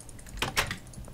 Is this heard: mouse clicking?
yes